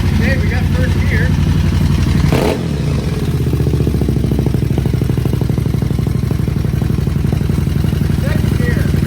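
An Aprilia Caponord motorcycle engine runs steadily in first gear, close and loud with a continuous mechanical rattle and a brief clunk early on, while a voice talks over it.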